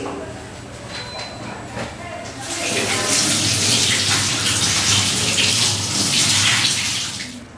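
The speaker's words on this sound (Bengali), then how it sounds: "ক্যাপসিকামগুলো আর আগে ভালো করে ধুয়ে নিই" A kitchen tap runs while capsicums are washed under it. A softer trickle gives way to a louder, steady gush of water, with a voice talking nearby.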